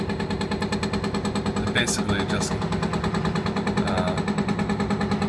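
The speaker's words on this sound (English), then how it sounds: "this is a building they're demolishing right outside my window here, and you can see they have two of these hydraulic hammers" Two hydraulic hammers pounding walls and floors as a building is demolished just outside a window, giving a steady, rapid mechanical hammering that runs the whole clip under a brief spoken remark.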